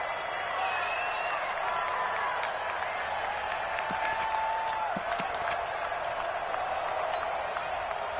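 A big stadium crowd at Arrowhead roars steadily during an American football game against the Ravens, a sustained distant wash of cheering with scattered claps and whistles, and no clear single voice above it.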